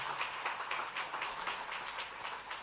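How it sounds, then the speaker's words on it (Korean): Applause from a church congregation welcoming honored elder guests at a Sunday worship service, a steady wash of clapping held at a moderate, somewhat distant level for a few seconds, with no voices over it. "뜨거운 박수로 한번 환영할까요?"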